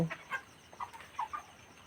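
Thirty-one-day-old broiler chickens on a poultry farm give a few short, soft clucks in quick succession, faint and somewhat distant.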